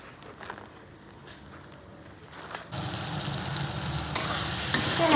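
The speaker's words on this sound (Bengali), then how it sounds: "আমার আলু ভেজে রেখে দিতে হবে এখন" Potatoes fry in a pan at home, with quiet kitchen rustling first and then a sudden loud, close sizzle that swells and grows stronger toward the end.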